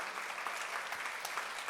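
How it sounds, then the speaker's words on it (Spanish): A church congregation applauding together, a dense, steady patter of many hands clapping at a moderate distance, fairly quiet and sustained without pause. "vamos a darle un aplauso al Señor"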